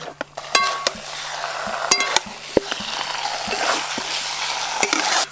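Kadaknath chicken meat frying in a pan, a steady close sizzle broken by sharp clinks and scrapes of a utensil stirring against the metal, with no voices.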